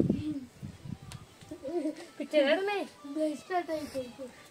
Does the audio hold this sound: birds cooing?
yes